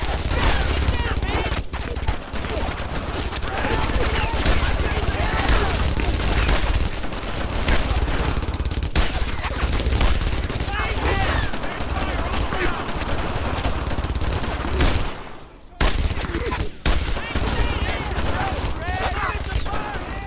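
Sustained German gunfire and machine-gun bursts in a World War II shooter game (Call of Duty: World at War) rattle loudly and continuously, with dense overlapping shots and a brief lull near the end before firing resumes.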